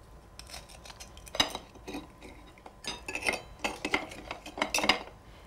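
A knife cuts shucked oysters into small brunoise pieces on a board, giving a run of irregular light taps and scrapes that grows busier toward the end, close by with no talking.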